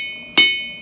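A single hammer strike on a newly arrived anvil, a sharp close hit followed by a bright, high-pitched ring that sustains and slowly fades.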